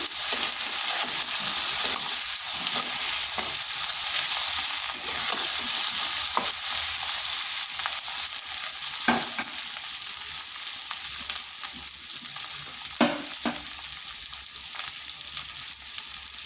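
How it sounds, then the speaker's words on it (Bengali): Potatoes fry and are stirred in a pan with a little salt and turmeric, giving a steady, close sizzle throughout, broken by occasional scraping stirs of the spatula. No one speaks. "এখানেও সামান্য লবণ দিচ্ছি আর সামান্য হলুদ। আলুগুলো একটু ভালোভাবে কষে নিচ্ছি।"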